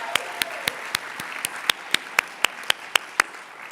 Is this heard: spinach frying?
no